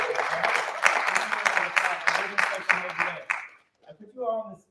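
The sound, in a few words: audience applause for the jazz band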